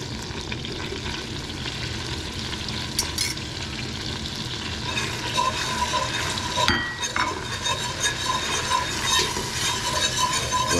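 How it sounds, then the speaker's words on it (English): Flour stirs into browned hamburger in a hot pan, a steady close sizzle with scraping and clinking stir strokes throughout. "we're just gonna kind of cook it until we get that doughy taste out of the flour"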